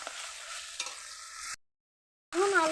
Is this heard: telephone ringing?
no